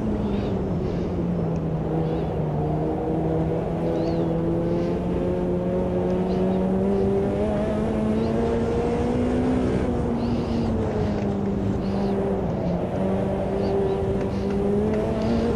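Race car engine in Automobilista 2 with a Group C mod, a loud continuous drone whose pitch rises and dips with throttle through the lap, heard close and alone for the whole stretch.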